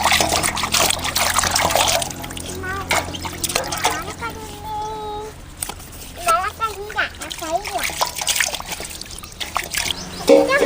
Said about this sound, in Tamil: முருங்கைக்காயை கழுவி எடுத்துக்கலாம்.